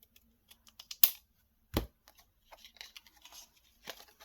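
Scissors snip through thin plastic packaging on a small craft-store item, giving scattered quiet clicks and one louder crisp crunch against a near-silent room.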